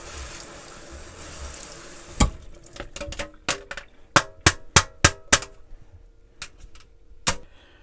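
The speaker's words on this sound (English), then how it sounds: "all you do is you just stick it under the faucet and you just wash it off" Running faucet water rinses an air conditioner filter from a mini split unit in an RV; steady water flow at first, then a series of sharp close knocks and taps as the filter is handled.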